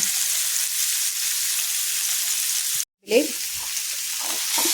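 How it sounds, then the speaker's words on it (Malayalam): Chicken fries in hot oil with a steady, bright, close sizzle, briefly cut off for a moment before resuming with a few soft clatters. "അതേപോലെ ചിക്കനൊക്കെ ഫ്രൈ ചെയ്യാനൊക്കെ ഇട്ടിട്ടുണ്ട്"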